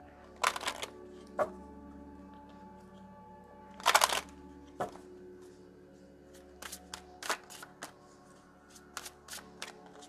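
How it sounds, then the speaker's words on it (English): A deck of oracle cards is shuffled by hand in short bursts, crisp riffling flutters and taps with one longer shuffle in the middle, close and clear against quiet room tone with no talking. "Let's go ahead and shuffle this up"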